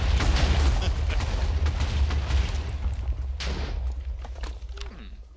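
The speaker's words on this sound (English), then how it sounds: "If I can get away from the sound of all the explosions going off." TNT blocks explode in a Minecraft-style game, a rapid chain of booming blasts and crackling pops that rolls continuously and gradually thins out.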